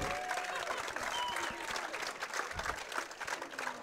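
Crowd applause at a pickleball match during the USAPA Nationals, a steady dense clapping that fills the whole stretch at moderate level, with faint commentary underneath.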